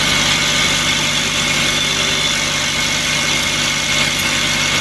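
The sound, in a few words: Ashok Leyland Dost truck engine idling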